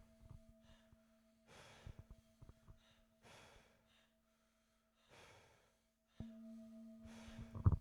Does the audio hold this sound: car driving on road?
no